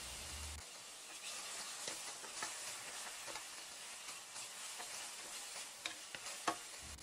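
Garlic and onion sautéing in hot oil for chicken curry adobo, a soft steady sizzle with scattered crackles and a few small clinks, faint and close, no voices.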